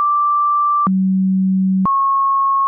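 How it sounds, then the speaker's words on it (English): Synthesizer sample-and-hold module randomly sampling a sine wave, producing steady pure tones that step abruptly between pitches, a high note dropping to a low one for about a second then jumping back up, clean and alone. "what we're getting there is kind of an unpredictable sample of the sine wave at that point."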